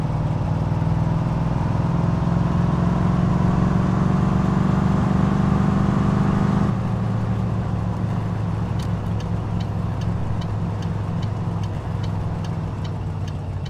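Car engine running steadily in the My Summer Car driving game, a loud continuous drone with a low hum that drops slightly partway through, followed by a faint regular ticking.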